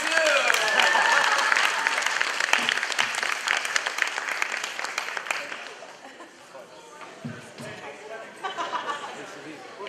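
Loud applause from a sangeet show audience fills the room, steady at first, then thinning into scattered claps and crowd chatter, with some cheering voices mixed in.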